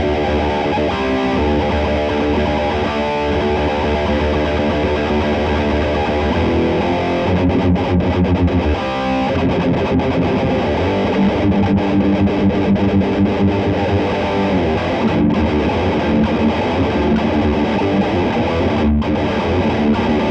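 A heavily distorted electric guitar in drop D tuning grinds through a dense, chugging low riff, loud and continuous throughout with no voices.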